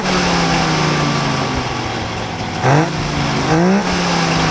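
A Saab car engine with three little carburetors idles steadily, then gives two quick throttle blips that rise and fall. The engine sounds loud and close, with no talk over it.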